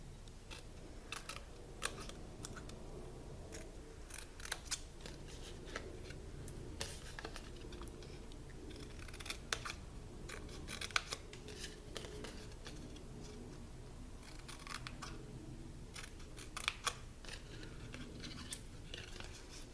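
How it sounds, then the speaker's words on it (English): Scissors snipping small V cuts along the score lines of folded cardstock for a Stampin' Up! carrot crate Easter treat, giving faint, irregular clicking snips at close range over a quiet tabletop background, with no talking. "Now we'll take our scissors and cut out these little score lines right here."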